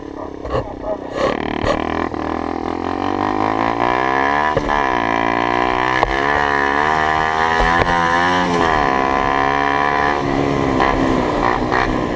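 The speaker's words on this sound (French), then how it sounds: "J'ai l'impression que le moteur il veut sortir du cadre, les gars." A Skyteam Dax 50 motorbike engine runs loud and close for the whole stretch, a steady buzzing drone whose pitch climbs and dips as the throttle is worked, with no pauses.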